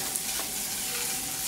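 Butter sizzles and bubbles as it is swirled through caramelized sugar in a frying pan while bananas are prepared for flambéing. The hiss is steady and close, with no voices.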